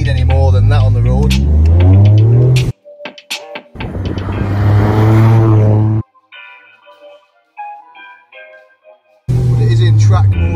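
A Toyota GR Yaris, a manual four-wheel-drive car with around 300 brake horsepower in track mode, drones and rises loudly in two bursts while driving, then quietens before surging again, with a voice talking over it.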